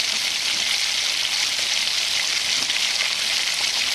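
Tomatoes fry in a pan for lentil dal, giving a steady, even sizzle that runs close and unbroken throughout.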